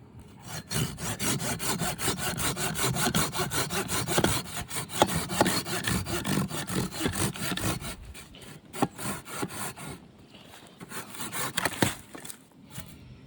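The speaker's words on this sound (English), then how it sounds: "So let's try sawing" A folding saw cuts through wood in steady, rapid back-and-forth strokes for about eight seconds, then slows to a few scattered strokes and pauses. It sounds close and fairly loud, with no talking.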